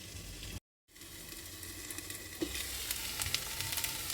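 Vegetables sauté in a pan with a steady, close sizzle and a brief break before the frying hiss resumes and holds, with no one talking.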